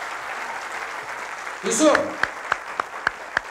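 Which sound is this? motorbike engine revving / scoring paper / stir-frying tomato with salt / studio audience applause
studio audience applause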